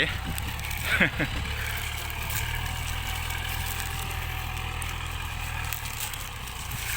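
A tractor engine runs steadily in a sugarcane field during planting, a low continuous rumble that holds throughout, with faint voices in the background.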